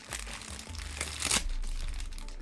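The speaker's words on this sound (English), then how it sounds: "Bubble wrap!" Bubble wrap crinkles and rustles close by as a Godzilla 1998 figure is unboxed, with irregular crackling bursts and one sharper louder crinkle.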